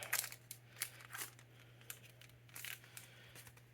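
A Pokémon card pack is opened with children's scissors: soft, close snips and crinkling foil-wrapper rustles come in scattered bursts over a steady low hum, with no talking.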